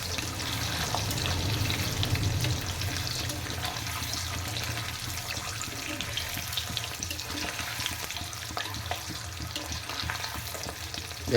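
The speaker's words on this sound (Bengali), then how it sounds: "সুন্দর করে একটু নেড়ে নেবেন এই সাদা ডিম যাতে সোনালি কালারের হয়ে যায়" Three eggs frying in a pan and stirred until golden, with a dense, steady sizzle and crackle throughout and faint scraping as the spoon moves, close and without speech.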